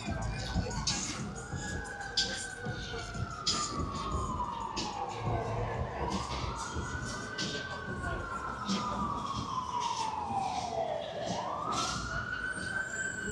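An emergency siren wails in long rising and falling sweeps, moderately distant, over steady traffic rumble and street noise on Hollywood Boulevard.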